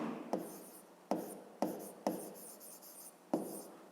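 Pen writing math by hand in a paper notebook: about six short, scratchy strokes with brief pauses between them, close and quiet, with no talking.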